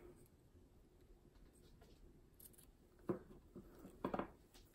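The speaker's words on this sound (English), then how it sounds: "I'm just going to trim it right down, almost directly to the edge of the scallop" Scissors snip through gold glittery washi tape trimmed close to a scalloped edge for a December Daily scrapbook page, two short bursts of close, crisp cutting over a quiet room.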